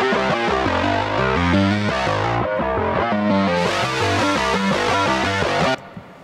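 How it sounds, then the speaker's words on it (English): A broken Juno-106 synthesizer played solo and monophonic, running a fast sequence of bright, buzzy repeated notes in a steady rhythm, loud and up front, stopping abruptly near the end. "Then we have the Juno. Let's listen to that in solo first."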